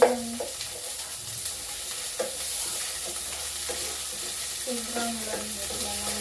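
Onion and garlic fry in a pan with a soft, continuous sizzle, broken by a few light clinks and scrapes of stirring, and no talking.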